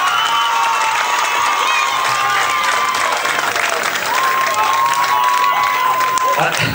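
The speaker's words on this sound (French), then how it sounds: "un tonnerre d'applaudissements" Roadside crowd at a French cycling race applauding and cheering a rider, a dense continuous wash of clapping and shouts with some voices mixed in, while a sustained tone, likely a whistle or horn, sounds faintly over it.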